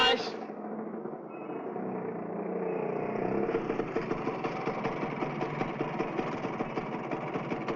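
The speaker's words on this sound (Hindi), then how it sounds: "मोटरसाइकिल बिगड़ गई है।" A broken-down second-hand motorcycle engine idles roughly at close range, its steady rumble picking up a regular pulsing chug as it runs, with no talk over it.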